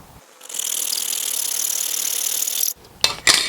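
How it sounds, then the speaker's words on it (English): A hacksaw cuts through garage door weather stripping molding in a steady, close rasping stroke lasting about two seconds, followed by a few short scraping bursts, with no talk. "now we'll take our hacksaw and we're going to cut through it nice and easy"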